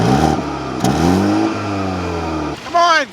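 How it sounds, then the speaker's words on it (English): A car engine revs with a rising, harmonic whine that climbs in pitch, dips, then surges again briefly near the end. "Rev up your engine!"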